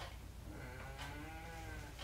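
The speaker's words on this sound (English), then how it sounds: "I haven't fed the pigs yet, and when I don't feed them, they let me know." Hungry farm pigs calling out to be fed, their cries rising in a few sustained, tonal bursts over a steady low background hum, at moderate distance.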